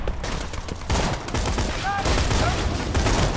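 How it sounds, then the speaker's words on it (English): Rapid pistol gunfire from the video game Borderlands crackles in dense bursts throughout, loud and close, mixed with game effects. "That pistol's not so good."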